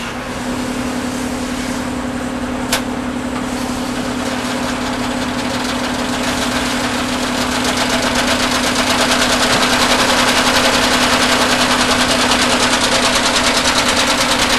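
A sewing machine with a diamond head needle stitches through layers of leather for custom boots, a loud, continuous rapid mechanical rattle and hum that runs steadily throughout with no talking.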